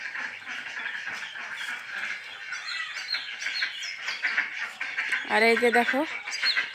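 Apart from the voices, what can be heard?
farm ducklings quacking at feeding time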